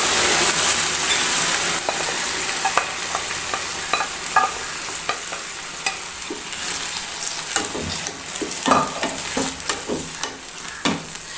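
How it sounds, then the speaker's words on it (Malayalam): Cooked vegetables for a vegetable curry are poured into a hot pan and stirred: a sizzle at first, then repeated close scrapes and metallic clinks of a spoon against the pan over a soft frying hiss. "വേവിച്ച് വെച്ച പച്ചക്കറി നമ്മൾ അതിലേക്ക് ഒഴിച്ച് കൊടുക്കുന്നുണ്ട്"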